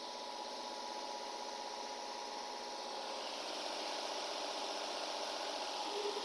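A Nissan VQ engine idles unevenly with one ignition coil disconnected, a steady, fairly quiet running drone with a faint rhythmic pulsing throughout.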